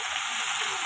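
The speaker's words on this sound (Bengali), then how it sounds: "এটাকে আগে ভালো করে ভাজবো।" Vegetables fry in a home kitchen pan with a steady, close sizzle and crackling hiss that holds evenly through the short moment, with no voices.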